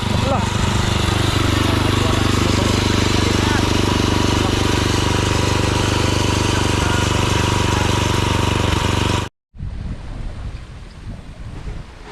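A motorcycle engine runs steadily and loudly under heavy wind buffeting. It cuts out abruptly near the end, and rougher noise follows.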